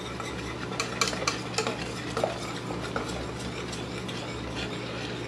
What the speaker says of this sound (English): Now we're going to whisk that all together.